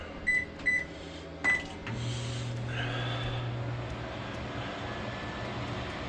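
A large LG microwave oven gives three quick electronic keypad beeps, then settles into a steady low running hum that continues to the end. The sound is moderately quiet, with no talking.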